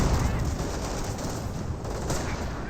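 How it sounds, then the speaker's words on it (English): Sniper gunfire during a Company of Heroes 1 battle, heard as a steady wash of distant gunfire and battle noise with scattered sharper cracks, fairly quiet and continuous. "Snipers getting some good shots in there."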